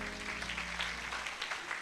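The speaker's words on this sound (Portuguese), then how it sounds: "Você pode aplaudir ao Senhor, irmãos?" Church congregation applauding, a continuous patter of clapping from many hands, moderately distant and fairly soft, over a low steady hum.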